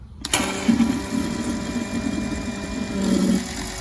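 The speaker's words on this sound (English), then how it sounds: "That's what it sounds like when it's sucking oil." An oil extractor pump sucking oil whirs with a low, buzzing drone and a faint gurgling texture, starting abruptly and running continuously, with a slight rise near the end.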